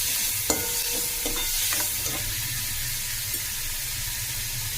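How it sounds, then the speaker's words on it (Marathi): Onion and green chili fry in a pan after garlic has browned, giving a gentle continuous sizzle with a few clicking spatula strokes early on, close up and without speech. "छान असं हलवून घ्यायचा।"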